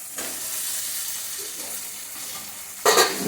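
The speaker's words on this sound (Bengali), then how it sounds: "এখন আলুটা দিয়ে দেবো, ভেজে রাখা আলুটা" A steady frying hiss fills the pan, then pre-fried potatoes drop in near the end and set off a sudden loud burst of sizzling.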